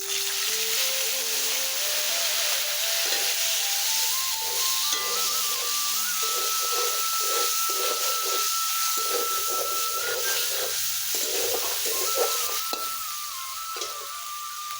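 A tomato, chili and ginger paste hits hot tempering oil and sizzles with a steady, loud frying hiss, broken by soft stirring scrapes, alongside a faint thin tone in the background.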